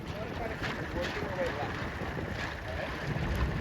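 Steady wind rushes across the microphone aboard a Sabot dinghy during a junior sailing regatta, a constant close whooshing with water and boat noise beneath and a faint voice in the background.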